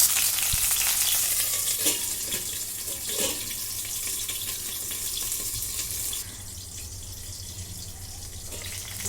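Bitter gourd pieces fry in a pan with a steady, close sizzle and crackle that runs throughout, easing slightly toward the end, with no talking.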